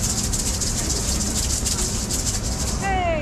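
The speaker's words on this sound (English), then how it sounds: "my favorite is the uli uli, the feathered rattle, and it sounds like this." Uli uli feathered hula rattle shaken steadily, giving a continuous bright, pulsing rustle over a noisy background, with a rising whistle-like tone entering right at the end.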